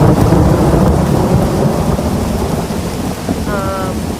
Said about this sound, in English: Didn't realize it was going to start raining on us today, guys.